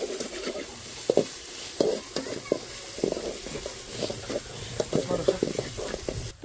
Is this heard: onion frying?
yes